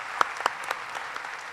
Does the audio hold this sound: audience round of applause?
yes